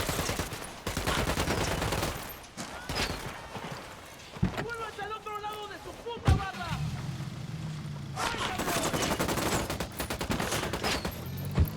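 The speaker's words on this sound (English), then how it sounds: "Opening fire." Rapid gunfire bursts ring out in the shooter Tom Clancy's Ghost Recon, coming in clustered volleys with short pauses, mixed with other game sounds and occasional talk.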